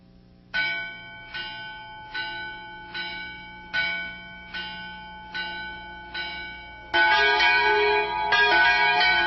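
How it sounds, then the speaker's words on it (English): A church bell tolls in slow, even strokes, each ringing out and decaying before the next, then the ringing turns denser and louder near the end. "One day the church bell tolled."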